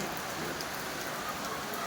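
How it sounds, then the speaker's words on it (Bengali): Soft, steady rainfall patters continuously on a veranda, an even hiss with scattered drops, faint and unbroken. "বারান্দাটা সব এত ভিজে বৃষ্টি দেখুন খালি"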